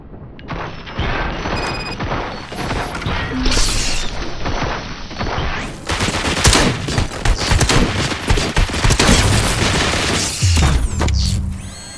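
Sustained, loud gunfire from many weapons at once in a RoboCop scene, a dense continuous fusillade with crashing impacts running almost the whole time, with no speech.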